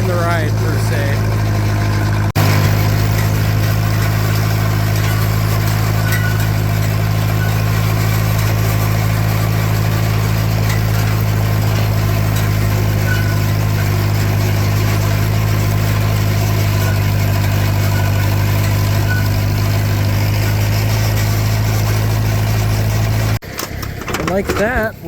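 A Farmall 504 tractor engine runs steadily while raking hay, a loud continuous low drone with a constant hum that holds throughout and drops off sharply near the end.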